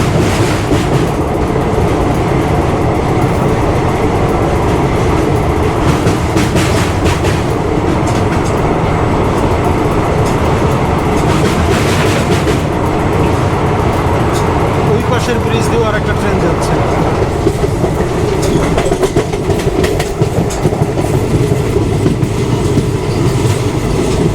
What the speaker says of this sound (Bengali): আমার ট্রেন কাটপাটি জংশন স্টেশনে এসে পৌঁছে গেল